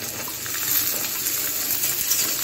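Sliced eggplant fries in hot oil in a pan, a steady close hiss of sizzling with no voices over it.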